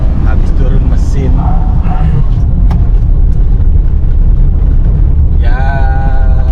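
A black car called X-Black, just back from an engine overhaul, rumbles along steadily on a long road trip toward Pelabuhan Ratu beach, its engine loud and constant beneath ongoing conversation inside.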